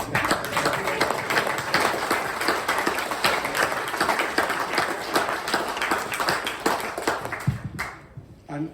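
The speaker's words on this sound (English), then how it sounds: "Let us applaud him, please." Audience applause at a sailing Cape Horn Hall of Fame ceremony in Les Sables d'Olonne, a sustained burst of dense clapping that carries on steadily for several seconds before fading out near the end.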